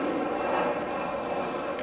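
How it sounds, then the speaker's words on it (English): An airplane passes overhead outdoors, giving a steady broadband engine roar that holds at a constant moderate level throughout, with no talking over it. "Got a plane going over here."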